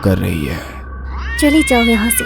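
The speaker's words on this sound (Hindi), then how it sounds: "इस पर बिल्ली और जोर जोर से म्याऊं करने लगी" A cat meows loudly and repeatedly at a window in an animated horror story, with drawn-out, wavering cries that follow a woman's spoken Hindi line.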